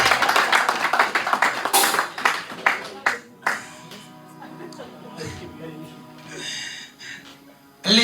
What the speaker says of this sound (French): on acclame pour Kemel